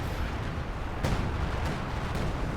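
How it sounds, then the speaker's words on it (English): Artillery barrage in a video game match, a steady dense roar of distant rumbling blasts with several sharp louder impacts cutting through. "We've now got the assault artillery falling death from the sky."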